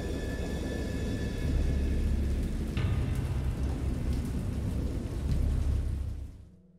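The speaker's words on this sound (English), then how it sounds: "I know that I heard peals of thunder and other tones which nature utters only in her wildest moods" A thunderstorm with heavy, steady rain and low, rolling thunder. The rumble swells and fades for several seconds over a constant wash of rainfall, then quickly dies away. No voices are heard.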